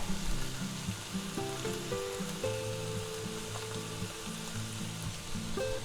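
Ham and green onions fry over medium-low heat in a pan, giving a steady soft sizzle under a faint tonal background hum, with no talking.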